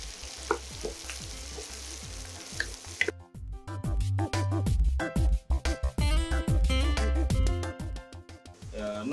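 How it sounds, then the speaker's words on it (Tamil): Dried red chillies fry in a pan for pallipalayam chicken: a soft steady sizzle at first, then louder with quick metallic scrapes and clatters from stirring, close and busy. "இது வந்து நல்லா ஃப்ரை பண்ணணும்."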